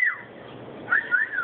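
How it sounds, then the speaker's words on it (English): A pet bird whistling indoors: a short descending whistle, a pause, then a brighter wavering whistle phrase near the end, close and fairly clear over faint room noise. "Hi, pretty bird."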